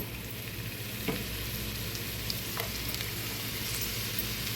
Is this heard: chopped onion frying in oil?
yes